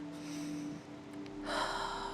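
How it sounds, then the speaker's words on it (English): A deep breath is drawn in during a yoga flow, with a steady inhale that swells into a louder, breathy rush near the end, close to the microphone over a faint background hum. "breathing in deeply here"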